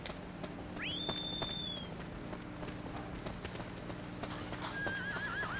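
Horse neighing and hoofbeats in the video game Shadow of the Colossus: a rising whinny near the start and a second shorter whinny near the end, over a steady bed of clip-clopping hooves and ambient game sound.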